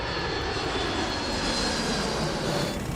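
Multiple aircraft engines at full throttle, pushed to maximum power after a stall warning, roar as a steady, loud, dense wash close by and alone, holding constant without breaks.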